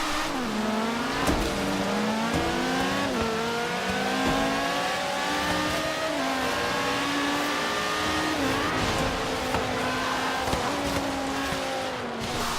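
Race cars in Forza Horizon 3 during a street team race, engines loudly revving up and down through repeated gear changes with rising tones, some tire squeal and other cars nearby.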